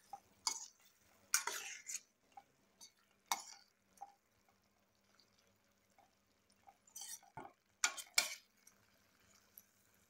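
Egg curry stirred in a pan with a spoon, scattered scraping and clinking strokes in irregular bursts, close and fairly quiet with gaps of near silence between.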